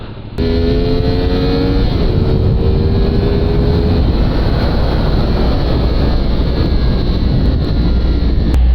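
A CFMOTO 450SR ASPAR Limited Edition sport motorcycle revs up and holds a loud, steady engine drone with wind rush as it pulls away on a test ride, with no talking.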